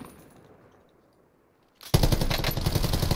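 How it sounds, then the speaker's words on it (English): Rapid automatic gunfire from Call of Duty Warzone erupts loud and close after a quiet stretch, sustained dense bursts continuing to the end. "Let's push toward the gunshots, maybe?"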